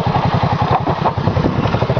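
A motorcycle engine running close by with a fast, rough, pulsing beat that swells and dips slightly, loud and alone without voices.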